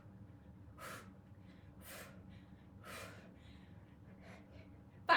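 Heavy, rhythmic breaths during a pregnancy-safe core workout, three strong exhales about a second apart followed by a fainter one, close and otherwise quiet.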